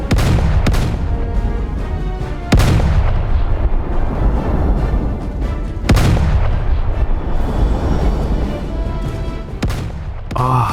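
HMS Warspite's heavy naval guns firing in Roblox Naval 1945, four loud, booming salvos spaced a few seconds apart, each followed by a long rumbling decay.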